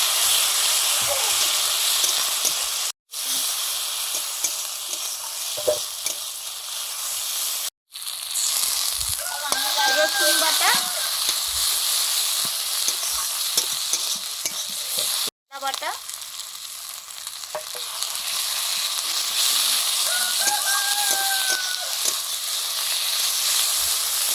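Ground chili paste of soaked Kashmiri red and hot dried chillies frying in a pan for fish curry, a continuous loud hiss and sizzle with occasional stirring scrapes and a few brief dropouts.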